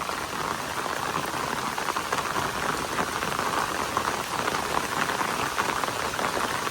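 Steady rain pours down over a hill village during an all-night downpour that brought flash flooding, a dense, even hiss of drops on surfaces running unbroken throughout with no voices.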